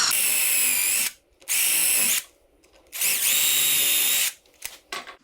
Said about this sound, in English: Size your drill bit properly for your screw. Drill a pilot hole.